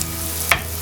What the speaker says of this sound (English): We'll let that fry off for not too long, because I don't want the garlic to overcook.